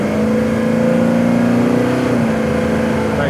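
A 1965 Chevelle restomod pulls hard on the road, its engine note rising steadily under load, then dropping and settling briefly as it shifts gears, with a steady loud drone throughout.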